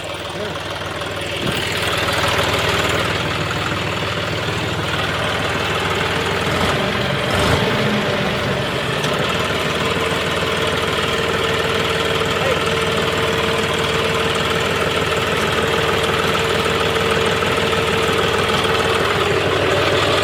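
A tractor engine runs steadily while ploughing a field beside a canal, a continuous loud mid-low drone with a slight knock throughout, and a voice speaks briefly over it near the start.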